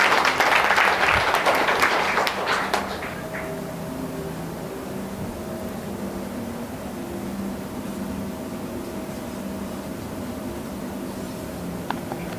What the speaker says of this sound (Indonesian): Berikan tepuk tangan dulu untuk Tuhan.